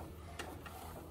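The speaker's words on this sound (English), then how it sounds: "so you see this one, it keeps printing" A McLaud MP1822 DTF printer runs, a steady mechanical hum with a couple of brief clicks of the print head moving, faint and close, no talk.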